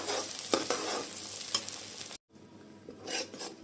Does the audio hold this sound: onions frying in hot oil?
yes